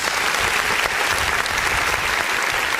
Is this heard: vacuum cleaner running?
no